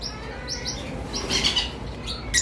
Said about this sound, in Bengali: এখানে আপনারা যে ইউইং পাখিগুলো দেখতে পারতেছেন